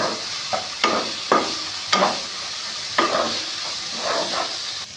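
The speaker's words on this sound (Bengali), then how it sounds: "এবার এটা ভালো করে নেড়ে নেব।" Ginger-garlic paste stirred in a frying pan sizzles steadily, with a spatula scraping the pan in several distinct strokes, close and fairly loud, and no talking.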